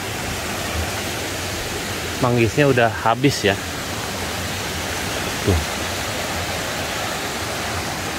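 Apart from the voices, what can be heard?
waterfall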